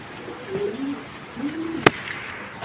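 Soft, low coos of racing pigeons at a pigeon farm rise and fall in two or three phrases, followed by a sharp brief click; fairly close, with no talking.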